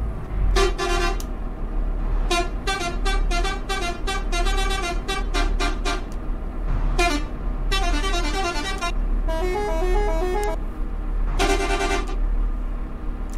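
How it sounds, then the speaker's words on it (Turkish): Relay horn on an Otokar Magirus M-2000 city bus in Istanbul, blaring loud and close in repeated bursts, each one a different warbling multi-tone melody, over the low rumble of the idling engine. "Her bastığınızda farklı farklı korna geliyor."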